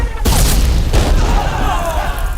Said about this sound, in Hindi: जब तक किले पर मशाल ना दिखाई दे तब तक तोपें चलती रहनी चाहिए।